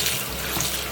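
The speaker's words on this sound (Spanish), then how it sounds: "le voy a dejar ir agua del chorro y lo voy a estar lavando 3 veces con esta agua" Tap water pours steadily into a bowl of chopped cabbage for washing, a loud, close, continuous broadband rush with no breaks and no voices.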